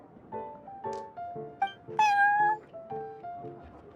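Prince the cat meows repeatedly in Genshin Impact, a run of short, close meows with one louder, drawn-out cry in the middle, and no talk.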